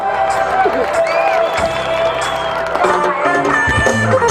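A concert crowd cheers and applauds for the singer, a dense, loud wash of shouts and clapping mixed with voices and tonal sound.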